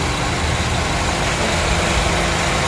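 Steady idle from the 2000 cc engine of a third-generation 2010 Honda CR-V, a constant low drone throughout that holds even and unbroken, with no talk over it.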